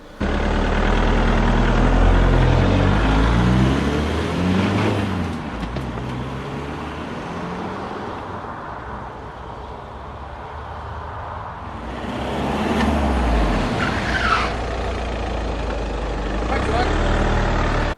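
Mark II Audi TT engine running after repair work, a steady loud idle rumble near the car that dips in the middle and then rises again, with a voice speaking over it.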